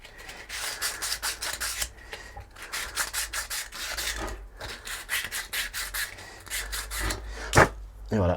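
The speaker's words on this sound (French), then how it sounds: "Je vais reponcer encore un peu, histoire de dire que... Ici, on va poncer." Wood being sanded by hand, with steady rhythmic back-and-forth rasping strokes, close and fairly loud, with a short pause midway and no talking.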